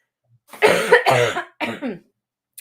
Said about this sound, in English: There's that lovely hacking cough.